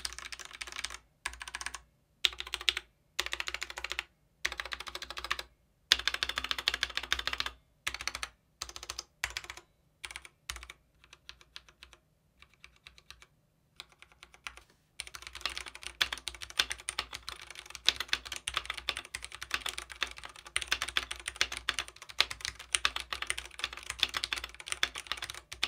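Typing on a stock Ducky One 3 TKL keyboard with Cherry MX Red switches, steady runs of soft keystroke clatter broken by short pauses, heard close up with no talk.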